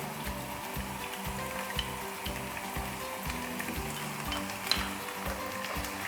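Garlic and ginger paste sizzling in hot oil with a soft, constant crackle, close by and fairly quiet, with a few light clinks of a utensil.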